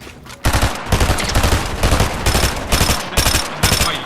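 Rapid bursts of SMG fire in a Fortnite match, a loud, dense stream of shots running almost continuously after a short quiet start, broken by brief gaps between volleys.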